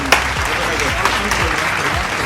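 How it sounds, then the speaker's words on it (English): Hand clapping inside a shopping mall, a few sharp claps standing out over steady background chatter and a voice speaking. "Clap, clap, clap, clap,"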